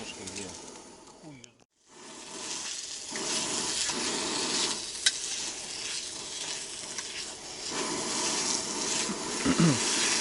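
Fish such as crucian carp frying in a pan and stirred with a spoon, giving a steady broad sizzle with occasional scraping, near and continuous while people talk over it.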